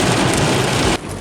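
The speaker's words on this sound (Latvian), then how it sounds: "Un tiešām nesameloja. Lietus ir." Steady rain pouring down outdoors, a loud, dense hiss of drops that cuts off abruptly near the end, leaving a quieter background.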